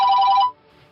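A telephone bell rings loudly and steadily for about half a second, then cuts off, leaving a faint quiet tail, in a scene from a Hindi-dubbed South Indian film.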